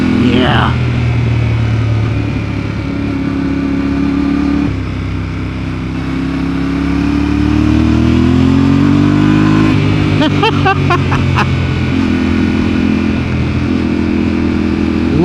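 A Yamaha Ténéré 700 motorcycle engine accelerates and shifts on a forest road among tall trees, its mid-pitched drone rising, dropping and climbing again, with brief talk over it.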